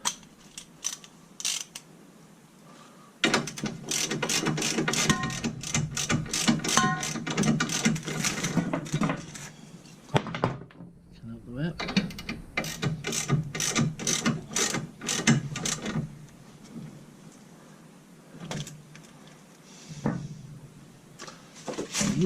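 Ratchet wrench tightening a ball joint bolt on a 2001 Volkswagen Golf Mk4 1.8T GTI, with long runs of quick, close, steady clicks that break off briefly and then start again.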